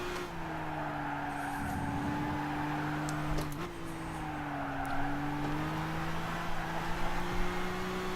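A race car in Gran Turismo runs over curbing and slides into oversteer, its steady engine drone holding close and loud throughout, with brief rumbling bumps and a short scrape in the middle.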